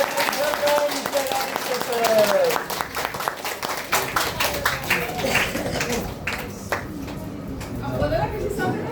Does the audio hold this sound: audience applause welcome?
yes